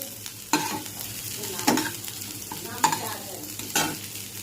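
Ginger paste and bay leaf frying in a pan, a soft continuous sizzle broken by several scraping strokes of a spoon stirring, close and moderately quiet with no talk.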